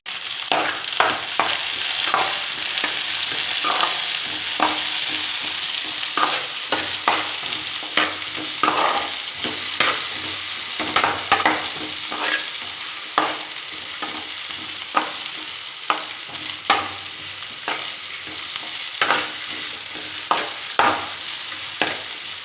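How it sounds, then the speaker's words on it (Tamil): Bitter gourd sautéing in hot oil, a steady crackling sizzle broken by repeated scraping stir strokes at a fairly regular pace, close and clear with no voices. "நம்ம ஃபஸ்ட்டு இந்த ஆயிலில் பாகற்காயை வதக்கி எடுத்துக்க போகிறோம்"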